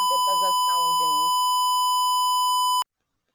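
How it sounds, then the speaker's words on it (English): A steady electronic buzzer tone from an Arduino traffic light simulation, one unbroken high pitched beep that runs under a man's speech, then continues alone before cutting off sharply. "and we have the buzzer sounding"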